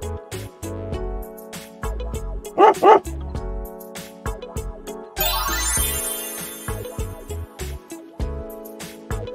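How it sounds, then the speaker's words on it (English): A dog lets out one short, sharp burst of barks partway through, brief against a steady backing of upbeat music that continues throughout. "Dog."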